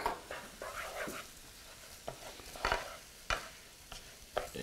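Rice stirred and toasting in butter in a pan, with soft sizzling and a series of sharp scraping strokes of a spoon against the pan, several louder knocks spaced irregularly.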